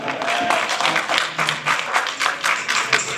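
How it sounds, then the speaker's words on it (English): An audience claps in a round of applause at the NACNA 76th Annual Convention, with steady, fairly loud clapping over a few seconds and no voices on top. "So we'll give him a round of applause."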